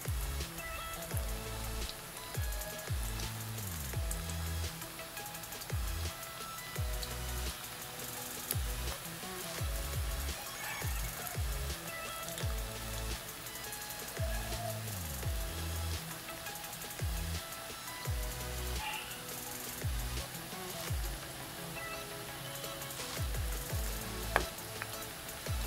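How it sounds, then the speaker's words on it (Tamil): Onion pakoda batter dropped bit by bit into hot oil fries with a steady, dense crackling sizzle throughout, close and even, with soft stirring scrapes and no talk. "மாவை இப்படி கையில் எடுத்து கொஞ்சம் கொஞ்சமாக இப்படி போடலாம்."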